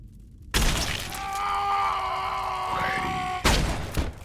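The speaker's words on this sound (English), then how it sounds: "this hero is blasted away by a fucker with a shotgun" Shotgun blast in a PS2 horror video game, a sudden loud burst followed by a sustained ringing, groaning tone, then a second heavy impact near the end.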